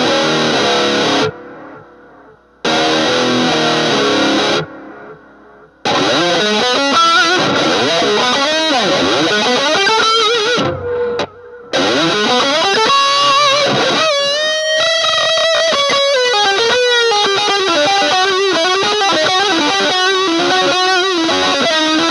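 Electric guitar played through an Orange Crush 35RT amp with a chain of about twelve pedals and reverb in the effects loop, loud and distorted, with sustained bends and melodic runs, brief pauses early on, then continuous playing.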